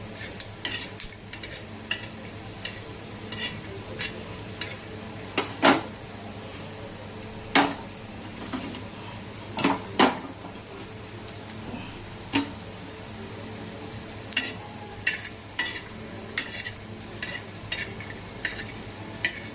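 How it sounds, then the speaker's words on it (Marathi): Peanuts fry in oil until crisp and red, a soft bubbling hiss under repeated sharp clinks and scrapes of a spoon stirring against the pan, irregular and close, with no speech. "चांगले शेंगदाणे असे खरपूस लाल रंगावर चांगले फ्राय करून घ्यायचे आपल्याला."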